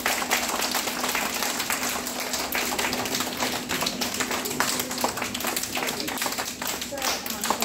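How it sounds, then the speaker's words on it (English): Children at an eye care clinic clapping together to welcome a guest, a dense, steady patter of close hand claps throughout with voices mixed in underneath. "Come on, clap and welcome him."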